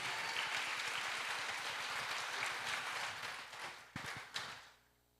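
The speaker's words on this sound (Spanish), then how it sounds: "Dale un fuerte aplauso a Jesús." Steady applause from a church congregation claps on for several seconds, then dies down with a few final scattered claps.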